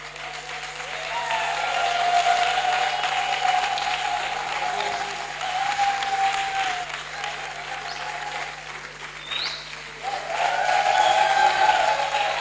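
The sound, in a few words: audience applause welcoming a musician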